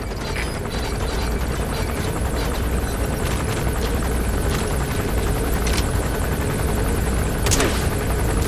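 Helicopter rotor and engine drone throughout a Metal Gear Solid V: The Phantom Pain game scene, a steady loud wash with scattered sharp gunfire cracks on top.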